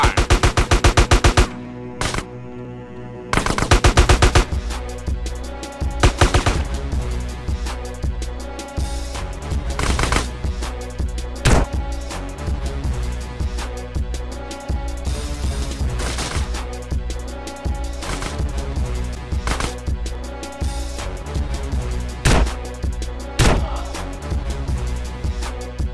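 Machine-gun fire in GTA San Andreas during the "End of the Line" mission: long, dense bursts of loud automatic shots that continue almost without a break, pausing only briefly near the start.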